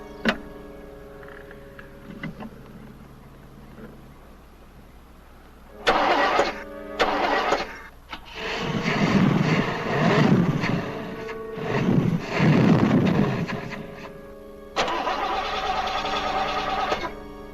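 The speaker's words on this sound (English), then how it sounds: "I can't fix the car with you starting it." A car engine is cranked and started in bursts from about six seconds, loud and close, after a quieter stretch with a low steady hum.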